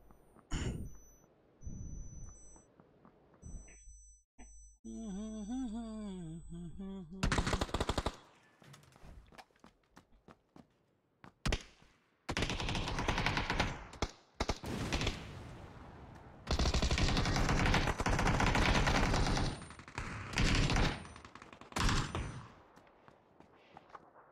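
Video game M16 rifle firing in burst mode: repeated loud bursts of automatic gunfire in clusters, separated by brief quieter gaps with faint footsteps and game effects, no talk.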